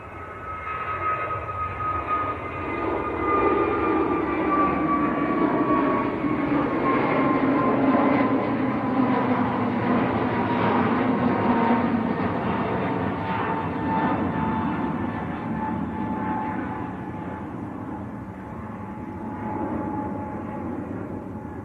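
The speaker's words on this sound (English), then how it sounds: "EgyptAir's on the roll, going back down to Cairo, A321neo." An EgyptAir Airbus A321neo rolls down the runway and takes off for Cairo, its engines building to a loud, steady roar with a whining tone that holds strong, then slowly eases as the jet climbs away.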